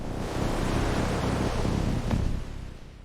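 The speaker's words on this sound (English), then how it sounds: "that was the wind. Just the wind." Storm wind at a lighthouse roars as a steady, loud broadband rush, swelling slightly and then easing off toward the end.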